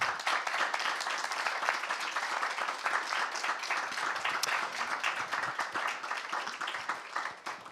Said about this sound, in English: Please, first, a round of applause for our panelists